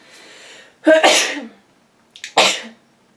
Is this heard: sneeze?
yes